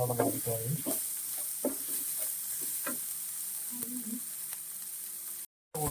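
Curry leaves sizzle in hot oil for a hotel-style prawn roast, a steady crackling fry with a few sharp pops and stirring scrapes, close and fairly loud with no talk.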